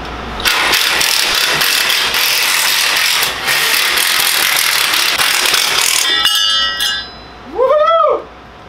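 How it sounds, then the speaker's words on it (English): A highly modified engine on a DTV Shredder tracked off-road board runs loud and steady for about six seconds, then cuts out, followed by a brief rising whoop-like tonal sweep. "DTV shredder, the DTV company, has highly modified this engine"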